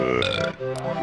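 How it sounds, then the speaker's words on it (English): A hippo character in the Banjo-Kazooie video game lets out one loud, drawn-out, croaking burp that wobbles in pitch for about a second. "the hippo who can't stop burping"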